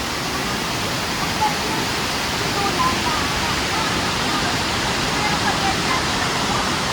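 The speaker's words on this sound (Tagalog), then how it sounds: "Guys, we're here sa waterfalls!" Waterfall at Villa Escudero, a dense continuous hiss of rushing water, steady and fairly loud throughout, with people's voices faintly mixed in.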